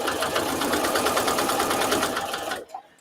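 Sewing machine stitching a fabric placemat, a steady close whir with a fast even needle rhythm running for most of the moment before stopping abruptly.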